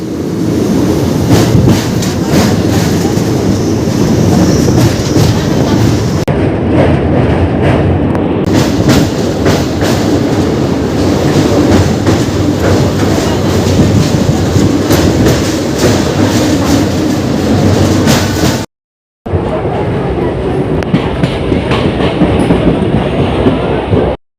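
Express train 58029 running from Kolkata to Digha crosses the Rupnarayan bridge at Kolaghat, a loud continuous roar heard from inside with a rapid clickety-clack of wheels on the rails, a brief dropout near the end, and no voices.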